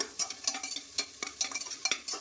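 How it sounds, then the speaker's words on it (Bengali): Pumpkin pieces stirred in hot oil in a pan, soft scraping strokes in an uneven rhythm over a faint sizzle, close and quiet, with no voices. "তেলের মধ্যে দিয়ে কুমড়োটা দিয়ে একসাথে মানে হালকা নাড়া করে একটুখানি হালকা নাড়াচাড়া করে"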